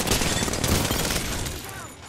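Dense, loud gunfire from the video game Apex Legends fills a brief two-second stretch, with rapid overlapping shots and booms and game voices mixed underneath.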